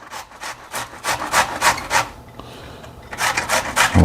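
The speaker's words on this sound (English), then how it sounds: "we're just going to be grating this down" Cauliflower grated on a sharp grater, close and loud, with about a dozen rhythmic rasping strokes in quick succession, a brief pause, then more strokes.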